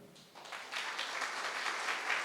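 Women in an audience at a welfare secretaries' gathering break into applause, a dense, moderately distant clapping that swells quickly and carries on steadily with no talk over it.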